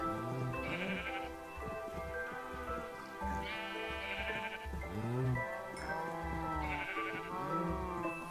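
Sheep in the Minecraft modpack All The Mods 3 bleat repeatedly, several wavering calls spaced a second or two apart, over a soft patter of rain in the background.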